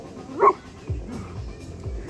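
A friend's dog named Laika in a lively park, giving a few short barks and yips with a whimper, moderately close and spaced out over a couple of seconds, with faint background chatter.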